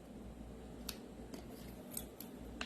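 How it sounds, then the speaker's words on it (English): Scissors snipping light vellum paper just behind embossed lines, a few quiet, separate clicks over a soft background hiss, no talking. "I'm gonna cut it a little bit behind the lines that of the embossing"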